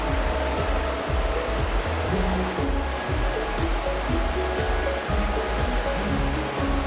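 The river in the Ardèche gorges near Labeaume rushes steadily, a loud, continuous broadband roar of moving water heard close and alone, with low rumbling surges throughout.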